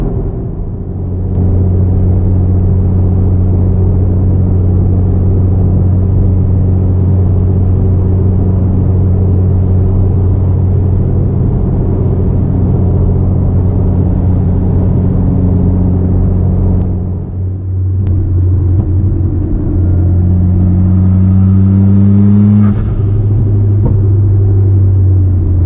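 Mitsubishi Lancer Evo X with a turbo cruising on a busy motorway: a steady, loud in-cabin engine drone and road rumble throughout, with a brief dip and a rising whine from acceleration near the end.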